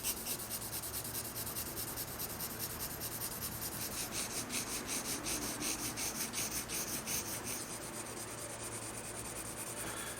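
A pencil shades a basic sketch of a portrait plaster bust on paper with steady, close, continuous scratchy rubbing strokes. The scratching keeps up an even, fast back-and-forth rhythm, and no one talks over it.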